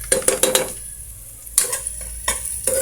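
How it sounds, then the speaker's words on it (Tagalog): Garlic sautéing in a pan, heard as bursts of scraping and clanking from stirring over a soft sizzle, with a quieter pause midway before the stirring resumes, close and fairly loud. "Wait lang natin siya na mag-brown yung ating bawang."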